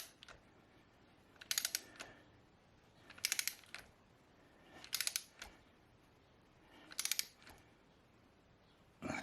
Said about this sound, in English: then put the torque wrench on, and it's 25 Newton meters